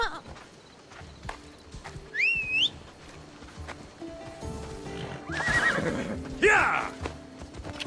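A horse in Assassin's Creed Odyssey neighs with a shrill whinny, then hooves clip-clop at a gallop as a second whinny rises near the end, moderately loud against a quiet outdoor backdrop.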